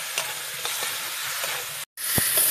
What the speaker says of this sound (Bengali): বন্ধুরা আলুটা দিয়ে ভালো করে কষানো হয়ে গেছে,